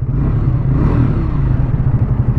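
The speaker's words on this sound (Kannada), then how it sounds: "ಇಂಜಿನ ಸೌಂಡ್ ಈ ಥರ ಕೇಳಿಸುತ್ತೆ" A 400cc motorcycle engine running steadily during a ride, giving a continuous low, throaty rumble with a dense mechanical clatter, close and loud throughout.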